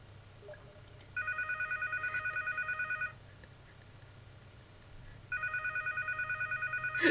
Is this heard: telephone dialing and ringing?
yes